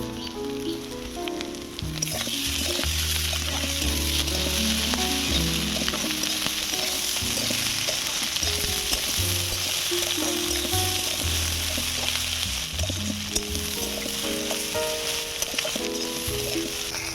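Egg, potato and chopped onion fry in a pan, a steady, loud sizzle that jumps up after a short quieter start and keeps going with faint stirring, while music plays under it and nobody speaks.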